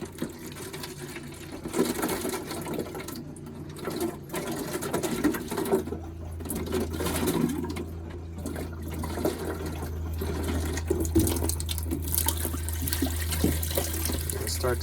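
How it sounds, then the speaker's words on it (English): Water spurts and sputters unevenly from a boat's faucet as antifreeze is pushed through the fresh water system during winterizing, with a steady low pump hum underneath and gurgling bursts throughout. "Oh, see, now it's spurting."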